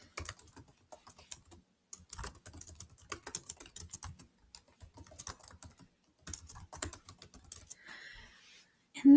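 Light, rapid typing on a computer keyboard, quiet and close, comes in irregular bursts of clicking with short pauses between runs.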